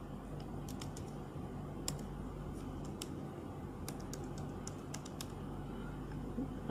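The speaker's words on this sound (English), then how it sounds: "So after that, I have to type the password." Someone types a password on a computer keyboard while setting up Mac OS, with soft, irregular key clicks in short bursts over a steady low background hum.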